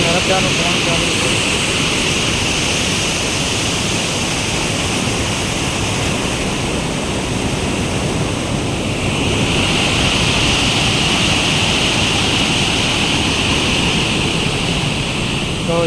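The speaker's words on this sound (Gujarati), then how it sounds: "જે નર્મદાનું પાણી કેવી રીતના આવી રહ્યું છે અને કેવી રીતના પાણી પાઇપમાંથી નીકળી રહ્યું છે" Narmada canal water gushes from a pipe into Dantiwada dam in a steady, loud, broadband roar that continues without break throughout.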